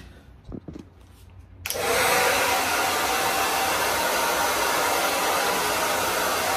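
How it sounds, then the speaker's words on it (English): A worn hotel-room hair dryer in an Atlantic City casino hotel bathroom switches on after a few small clicks and handling noises, then blows with a steady, loud, close whoosh that continues without a break. "I noticed there was a hair dryer down here."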